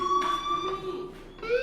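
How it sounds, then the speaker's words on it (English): Fire alarm in the video game Life is Strange, a steady electronic tonal buzz sounding continuously at moderate volume, with a voice briefly over it. "do you hear that fire alarm? That means you should be outside."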